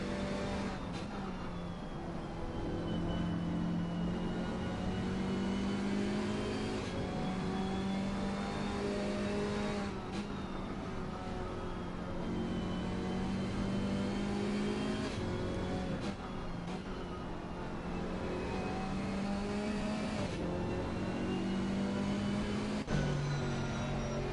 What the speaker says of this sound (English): Big Chevy screaming its lungs out